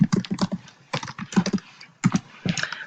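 Typing on a computer keyboard: close, crisp bursts of rapid key taps in uneven clusters separated by short pauses, loud and alone with no voices.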